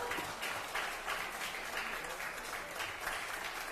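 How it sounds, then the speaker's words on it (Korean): Audience applause at a People Power Party political rally in Daegu, a dense, steady wash of many hands clapping that holds at an even level throughout without any speech. "박수 한번 부탁드립니다."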